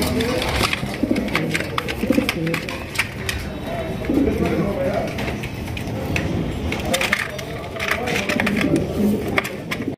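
Fancy Telmark pigeons, a rare breed sold as a pair, coo softly and repeatedly amid other birds in a busy market setting, with talk running alongside throughout.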